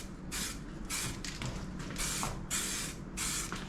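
Aerosol spray paint laying a second coat on a car wheel, five bursts of close, loud hissing, each lasting about half a second, separated by brief pauses.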